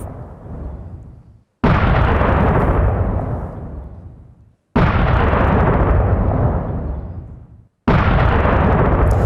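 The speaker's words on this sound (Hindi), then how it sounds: "जहां पैट्रियट सिस्टम ने कई मिसाइलों को इंटरसेप्ट भी किया" Patriot air defense firing to intercept Iranian ballistic missiles over Bahrain near a US base: three loud, close booming blasts, each with a long rumbling roar that slowly fades before the next.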